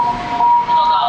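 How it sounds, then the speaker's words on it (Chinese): An ambulance siren wails loudly and steadily at a road intersection in Changhua, Taiwan, a close, sustained electronic tone lasting the whole brief moment with a slight pitch shift near the end. "突然一辆救护车鸣笛"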